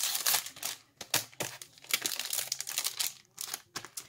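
Plastic-wrapped packets of envelopes being handled, giving close, irregular crinkling and rustling bursts with short pauses between them.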